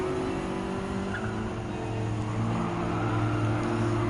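A 1991 Honda Beat mid-engine kei car races in Gran Turismo 7 in a lightweight K cup event, its engine droning steadily at high revs throughout with a constant tonal whine and no speech over it.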